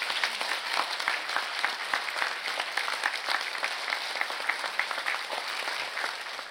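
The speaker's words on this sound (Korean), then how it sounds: "뜨거운 박수 부탁드립니다" Steady applause from a lecture audience welcoming a professor to a Buddhist talk, dense continuous clapping held at an even level throughout.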